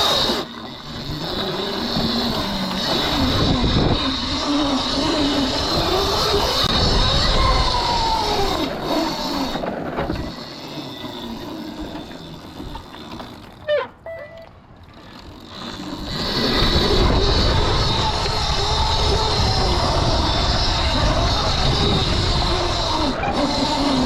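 Kuberg Freerider 12kW electric dirt bike ridden in circle wheelies, a steady loud whine and rumble that dips briefly midway before surging back, continuous and fairly close with no talking.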